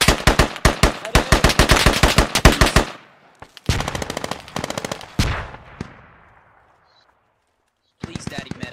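Rapid machine gun bursts from the video game Squad ring out loud and close for about three seconds, then break into shorter volleys that trail off into near silence before a final burst starts.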